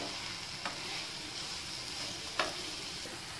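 Ginger-garlic paste fries in a pan for a restaurant-style varutharacha chicken curry, a steady close sizzling hiss broken by two soft stirring scrapes.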